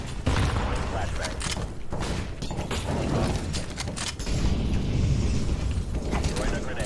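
Flashbang grenades going off in a tactical shooter game, with dense bursts and booming blasts over continuous noisy action, mixed with radio-style voice callouts from players.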